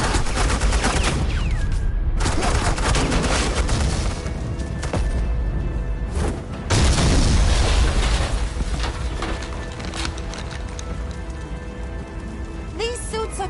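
Suppressing gunfire in a Batman video game: a sustained, loud, crackling barrage that rattles on almost without break, dipping briefly twice before surging again.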